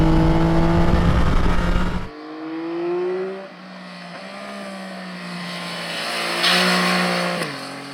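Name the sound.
Yamaha Tracer 9 GT Plus motorcycle riding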